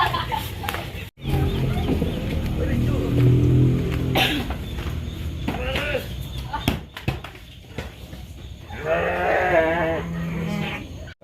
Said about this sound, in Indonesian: Nah, yang ini kandang kambing ya Baraya semuanya, kandang kambingnya tertutup ya untuk menjaga bau lah mungkin.